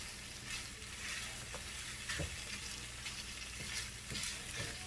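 Smoked sausage, cabbage and spinach fry in a pan with a steady close sizzle, broken by occasional stirring scrapes and clinks, with no talking.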